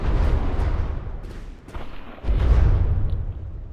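A capital ship takes a heavy artillery hit in a naval combat game, with deep rumbling booms and explosions rolling in successive impacts before fading out.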